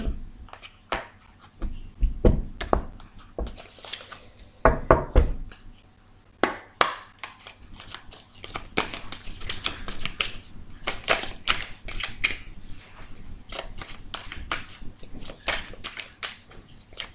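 Tarot cards are cut and handled for a reading, giving sparse taps, slaps and light shuffling clicks, close and fairly quiet, with a few louder card knocks early on and no talk.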